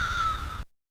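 A crow gives a single harsh, drawn-out caw, close and clear, lasting just over half a second before cutting off into silence.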